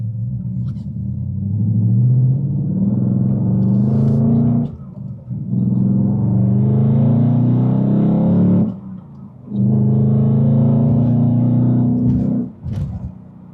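A supercharged 2021 Ford Mustang Saleen 302 engine rumbles loudly and steadily while driving on a highway, with two brief dips as the revs drop, probably gear changes, then the rumble returns.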